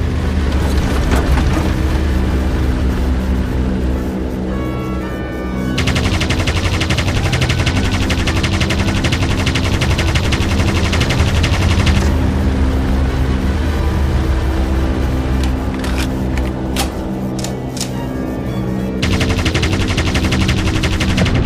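A Vickers machine gun fires continuously in a video game, a loud, dense rattling burst that carries on over a heavy engine drone, with short gaps between long bursts.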